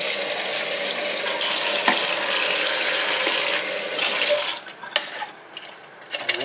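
A kitchen tap runs in a steady, loud broadband gush while frozen lemang is rinsed under it, then cuts off, leaving a few faint clinks and drips.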